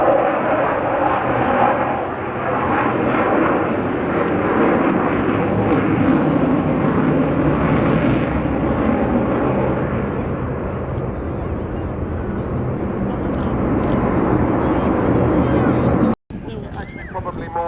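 A four-engine aircraft with two pilots accelerates at the Clacton airshow, a steady broad engine roar holding loud and continuous for the whole stretch, with a voice commentating over it and a brief cut near the end.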